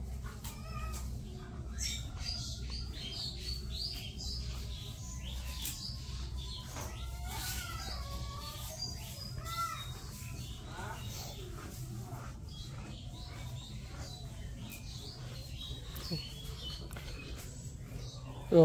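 Dove chicks call from a nest tucked beside a cattle shed in a village home, giving repeated thin, high squeaky cries scattered through the clip over a steady low background hum.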